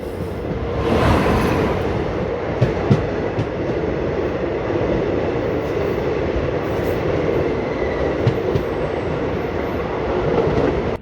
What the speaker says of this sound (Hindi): भाई सामने से आ रही है एक कोई ट्रेन